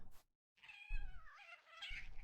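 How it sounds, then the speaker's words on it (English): Cats meowing in the game The Hanged Man: a short yowl, a pause, then a long drawn-out wavering meow, close and clear with no talk. "Freaking cats, calm down."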